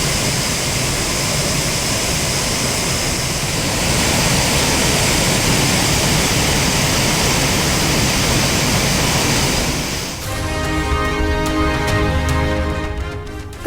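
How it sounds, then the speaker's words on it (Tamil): The Courtallam main falls in flood after heavy rain send up a steady, dense roar of rushing water, loud and unbroken, before music takes over near the end. "மேற்கு தொடர்ச்சி மலைப்பகுதிகளில் பெய்யும் கனமழையால் குற்றாலம் பேரருவியில் வெள்ளப்பெருக்கு."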